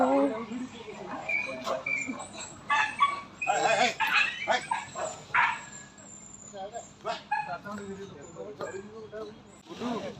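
A dog gives several short yips and barks at close range, mixed with people talking nearby.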